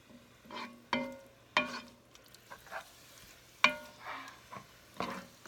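Meat browning in a pan for chili, being stirred: a series of close scraping strokes and clacks of a utensil against the pan at irregular intervals over a quiet background, with no talking.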